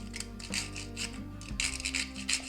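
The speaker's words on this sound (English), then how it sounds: "take a piece of cinnamon for the garnish and freshly grate the cinnamon" A cinnamon stick being freshly grated as garnish over an Irish coffee drink, a close rhythmic rasping of about eight or nine quick scraping strokes.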